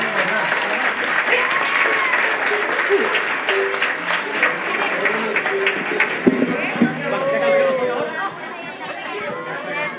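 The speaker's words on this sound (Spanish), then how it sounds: "Fuerte aplauso para los tres niños" A festival crowd at a town proclamation event in honour of Our Lady of Fatima applauds three children, clapping mixed with chatter and voices throughout before easing slightly near the end.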